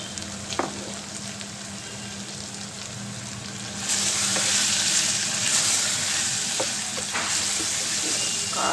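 Tindora curry with chili powder is stirred in a frying pan, with a continuous close sizzling hiss that swells louder midway and occasional spoon scrapes, alone without voices.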